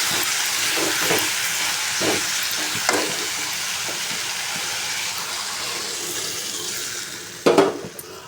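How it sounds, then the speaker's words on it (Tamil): Water poured into spiced masala with chili powder and salt in a cooking pan sizzles and hisses loudly and continuously, with occasional stirring clinks and a sharper flare of bubbling near the end. "இப்போ வந்து தண்ணி வந்து சேர்த்துக்கலாம்"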